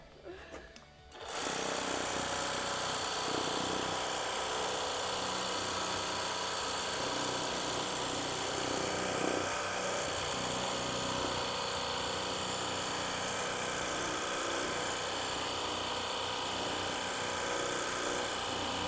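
After a brief quiet moment, a steady, loud motorized hiss and whine of a Ryobi cordless power washer spraying starts up and runs continuously without a break.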